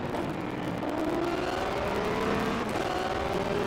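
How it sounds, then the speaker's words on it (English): A Lamborghini with a 6.5-liter V12 exhaust in Forza Horizon 5 drones steadily near and loud, a sustained engine note holding without talk over it. "Wow, it's got a unique exhaust note. It doesn't sound like any other Lamborghinis."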